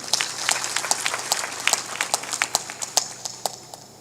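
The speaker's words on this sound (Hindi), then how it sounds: "ताली बजाओ इनके लिए।" An audience at a religious discourse gathering applauds, a light scattered patter of hand claps with irregular individual claps standing out, fairly close and without talk.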